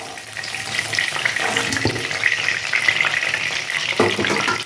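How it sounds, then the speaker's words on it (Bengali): Pointed gourd (potol) fries in oil with a steady, dense, bright sizzling hiss that runs the whole time, with a few faint knocks from the pan. "দেখুন বন্ধুরা আমি এমনভাবে ভাজলাম তেলটাও কালো হলো না"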